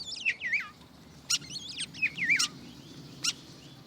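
A common starling sings from a high perch outdoors, giving a run of whistled, warbling and clicking phrases in short bursts with sharp accents, fairly near and clear over a low background murmur.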